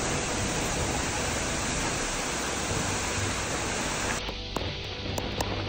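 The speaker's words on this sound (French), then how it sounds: "Proche de la cascade, l'eau nous tombait dessus avec une puissance incroyable, c'était fou." A powerful waterfall in Bali roars as a dense, steady wash of falling water, loud and close at the foot of the falls, continuing unbroken with a few faint knocks near the end.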